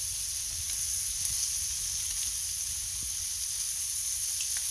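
Flipped deer meat chimichangas sizzle with a constant loud hiss in a hot pan, crackling evenly throughout with faint small pops.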